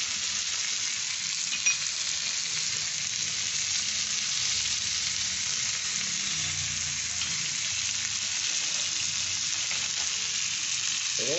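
Chicken reshmi kebab sizzles steadily on a tawa as melted butter is dribbled over it, a dense, even frying hiss running close and loud throughout with faint scraping underneath.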